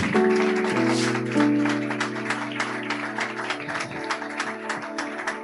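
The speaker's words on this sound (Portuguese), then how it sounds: "Glória a Deus, você pode aplaudir ao Senhor." A church congregation applauds during an evening mission service, scattered claps layered over sustained organ or keyboard chords that ring on after the clapping thins out.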